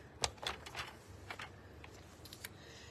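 Cardstock being cut on a paper trimmer while making a Z-fold card: a few quick, crisp clicking slices close by, quiet and brief against a soft background.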